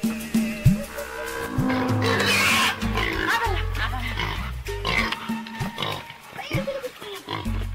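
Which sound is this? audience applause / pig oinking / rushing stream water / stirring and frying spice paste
pig oinking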